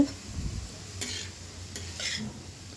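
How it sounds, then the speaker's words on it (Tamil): Shredded cabbage and capsicum are stirred in a pan, making soft scraping and tossing strokes over a quiet sizzle, with a couple of brighter scrapes standing out. "நான் கோஸ் போட்டுட்டேன், கேபேஜு போட்டு நல்லா மிக்ஸ் பண்ணிவிட்டு"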